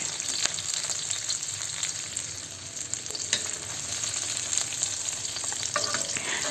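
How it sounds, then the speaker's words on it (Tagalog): Onion, garlic and sliced tomato sautéing for chopsuey, giving a steady close sizzle with occasional sharp utensil scrapes and taps. "At kapag medyo luto na ang sibuyas at bawang, ilagay na natin ang hiniwang kamatis."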